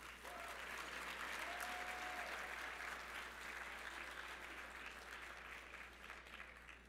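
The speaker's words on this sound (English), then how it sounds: "Please join me with a round of applause for Folio, Mackie Mitchell Architects, OCM, KWK Architects," A room of attendees applauds sponsors at a housing officers' conference closing brunch, sustained dense clapping from many hands that swells early and tapers slightly toward the end, a voice faintly audible beneath.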